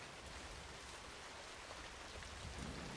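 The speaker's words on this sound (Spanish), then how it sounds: "Esta lluvia podría sernos de gran ayuda." Steady, dense rain hiss fills the whole stretch at low volume, even and continuous with no distinct drops, thunder or voices, like a downpour heard from a wartime film scene.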